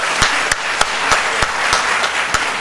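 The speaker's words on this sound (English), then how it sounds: "we were giving you a round of applause for your GPA" Round of applause from a school board meeting audience, a steady broadband wash of clapping with a few sharper individual claps standing out, moderately loud and continuous with no talk over it.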